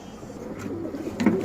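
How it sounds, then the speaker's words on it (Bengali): A breeder pigeon gives a brief, soft, low cooing close by, over faint background noise. "এই কবুতরটা হচ্ছে কাজ করা সুন্দরী কবুতর।"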